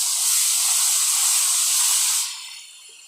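Tomato and onion paste hitting hot oil in a pan for mutton curry, a loud, bright steady hiss that cuts off abruptly and fades to a faint sizzle.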